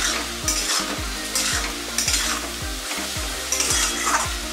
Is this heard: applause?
no